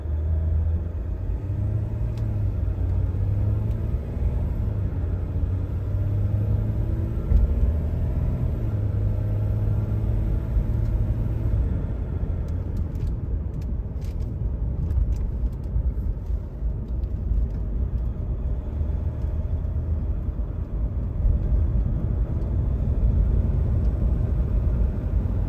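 A 2015 RAM 1500 pickup with the 3.0-liter EcoDiesel engine rolls along on a test drive, heard from inside as a steady low diesel drone and road rumble that holds throughout.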